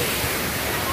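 Steady broadband rush of a waterfall pouring into a deep swimming pool below a rocky hillside, loud and continuous, filling the whole moment with no clear voices.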